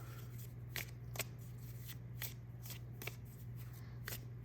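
Round tarot cards are shuffled overhand in a quiet room, a soft papery flutter repeating in a steady rhythm of quick riffs, close and gentle.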